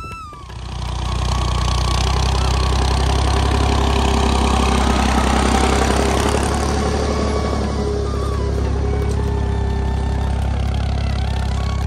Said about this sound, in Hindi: यहाँ पर ट्रैक्टर से जो है ना हल चलाया जा रहा है।